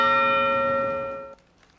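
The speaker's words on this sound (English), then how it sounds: "32 chimes from the Capitol Bell Tower were heard, one for each victim" A single toll from the Capitol Bell Tower, part of a memorial chime series, rings out bright and sustained with rich overtones, then is abruptly cut short.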